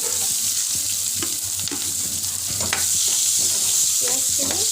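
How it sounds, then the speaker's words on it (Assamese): Onions fry in hot oil with a constant bright sizzle, close up, broken by several sharp scraping clicks as a spatula stirs them in the pan. "পিঁয়াজখিনি বাদামী কালাৰ হোৱালৈকে ভাজি থাকিব লাগিব"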